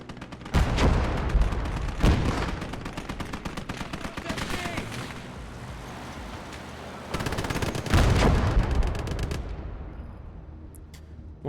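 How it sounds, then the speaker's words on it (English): Enemy artillery and heavy gunfire in the World War II game Gates of Hell: loud booming blasts at the start and again later, with continuous rattling fire and rumble between, close and dense. "Enemy artillery!"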